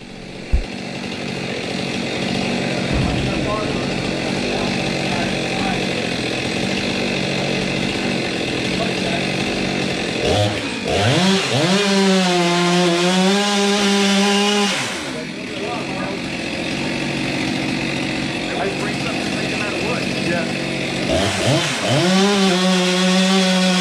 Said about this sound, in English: As you can see, the chainsaw bar got caught now because it pinched, and now the chainsaw is stuck in the air